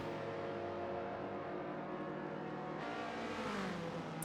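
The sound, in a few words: Subaru WRX STI engine revving, from a racing video game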